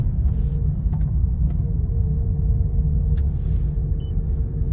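A Mazda car driving on the road, heard from inside as a steady low engine and road rumble with a few faint clicks, no voices.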